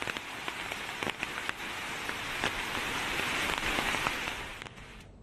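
Heavy, steady rain pours down in a flooded district along a swollen river, a dense continuous hiss with scattered sharper drop impacts, loud and close with no voices.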